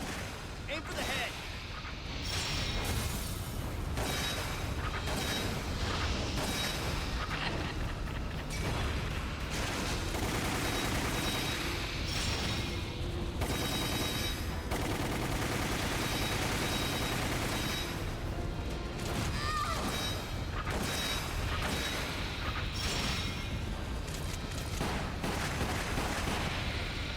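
Gunfire in the video game Resident Evil Umbrella Chronicles: repeated shots and impacts over a dense soundtrack of music and mechanical noise, with voices talking throughout.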